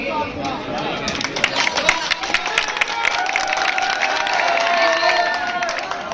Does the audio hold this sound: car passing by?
no